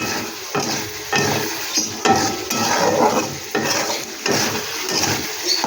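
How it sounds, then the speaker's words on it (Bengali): Potatoes stir-frying in oil in a pan, a loud, close sizzle with repeated rhythmic scraping and stirring strokes roughly every half second to second. "এবার ভালো করে আমি একটু কষাই নেব।"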